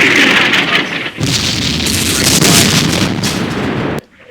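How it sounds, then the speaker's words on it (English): Enemy artillery fire in an Arab-Israeli war strategy game, a loud continuous roar of blasts and rumble that dips briefly midway and cuts off sharply near the end. "artillery fire from the enemy"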